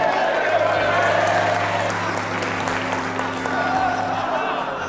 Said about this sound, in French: La salle éclata en applaudissements.